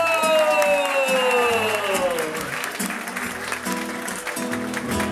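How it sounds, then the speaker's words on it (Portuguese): A crowd at a Mother's Day party in 2018 applauds and cheers the clown Pirulito, a continuous wash of clapping with a descending whistle-like tone and music playing underneath. "Vamos aplaudir o Pirulito!"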